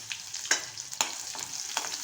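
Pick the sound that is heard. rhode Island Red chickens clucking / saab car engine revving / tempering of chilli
tempering of chilli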